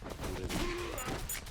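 Gunfire in the video game Like a Dragon Gaiden: a short burst of shots over a busy game soundscape, fairly loud and continuous for under two seconds.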